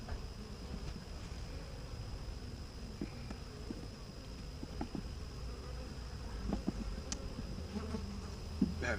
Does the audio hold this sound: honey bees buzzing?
yes